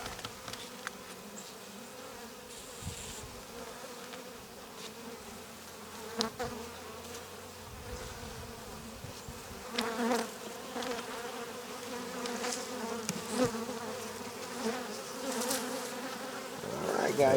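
Honey bees swarm and buzz around an opened beehive during spring cleaning, a dense steady drone of many insects close by that swells over the stretch, with occasional knocks and faint voices in the background.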